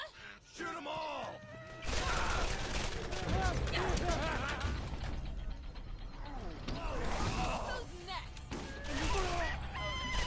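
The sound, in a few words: gunfire in the video game Borderlands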